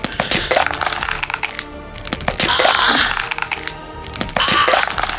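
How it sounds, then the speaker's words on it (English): A rapid series of sharp cracks and pops of a spine cracking, in three bursts with brief pauses between them. "I've been folded inside that ship so long my spine sounds like popcorn."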